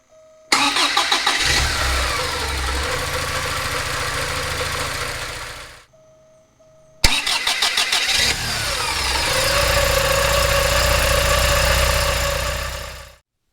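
Porsche 944 engine with a new high-torque starter cranking briskly and catching, running for several seconds, then shut off and started again, settling into a loud, steady idle close by.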